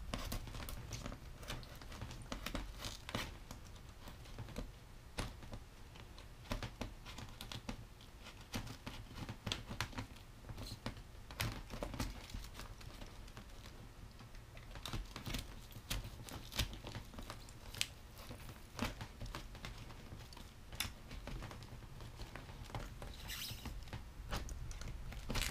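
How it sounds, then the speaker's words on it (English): A blade cutting into pink styrofoam, a continuous faint scratchy crackle with dense irregular ticks and squeaks, steady throughout and unaccompanied by talk. "Cut into this pink styrofoam."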